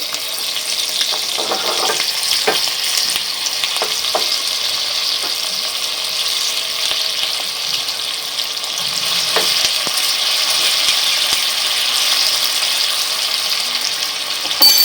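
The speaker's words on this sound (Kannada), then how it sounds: "ಅದರೊಳಗೆ ಸ್ವಲ್ಪ ಹಸಿಮೆಣಸಿನ್ಕಾಯಿ ಪೇಸ್ಟ್ ಹಾಕ್ತಾಯಿದ್ದೀನಿ." Green chilli paste sizzling in hot oil with cumin and mustard seeds for a tempering, a continuous bright frying hiss with occasional spatters and faint stirring clicks.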